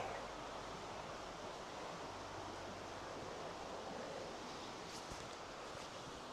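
The Innerste river in the Harz mountains flows past in a constant, even rush of water, with no voices or other sounds.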